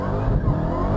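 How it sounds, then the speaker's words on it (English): An American muscle car's engine revs hard and strains at a drag launch. The close, loud growl comes with a brief rough surge in the middle, and nobody speaks. "You can hear it revving and it's struggling."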